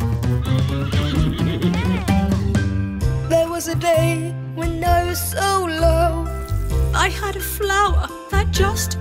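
A voice imitates a horse, giving a series of high, wavering whinnies in quick succession, close and lively, with some musical backing underneath.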